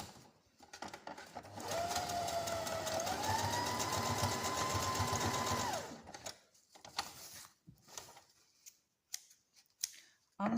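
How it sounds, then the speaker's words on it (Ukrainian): A sewing machine runs a straight seam on an eco bag, a loud continuous whirring hum of several seconds with a rising pitch, followed by quieter handling noises and a brief talking voice. "Тут звичайна строчка."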